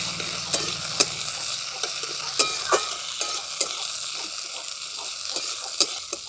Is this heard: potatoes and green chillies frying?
yes